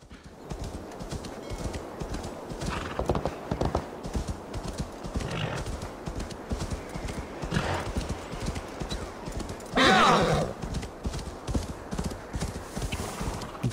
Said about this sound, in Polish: Także dosiadamy naszego konia i ruszamy.